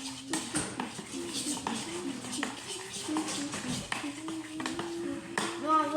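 Homemade slime is stirred in a bowl, giving irregular clacking and scraping of a utensil against the bowl, moderately close, with children's voices talking over it.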